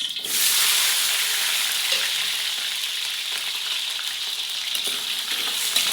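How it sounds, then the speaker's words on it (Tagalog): Potato pieces fry in a pan of hot cooking oil, giving a loud, dense, continuous sizzle with crackling that flares up as they hit the oil and then holds steady, with no voices. "Piprito muna natin to."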